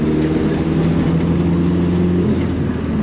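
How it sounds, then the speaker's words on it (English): A Datsun 1600 fitted with a turbocharged SR20 engine rolls over a bumpy road, its steady loud engine drone and low road rumble filling the cabin with faint interior rattles beneath. "So the usual rattles that a Datsun has"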